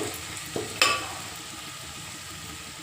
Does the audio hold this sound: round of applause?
no